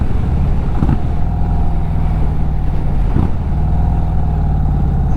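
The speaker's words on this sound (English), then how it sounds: "That exhaust system sounds really good too." Exhaust of an Indian Sport Chief RT motorcycle fitted with a 2-into-1 system, a loud, close, steady engine rumble that swells in two brief revs over the idle.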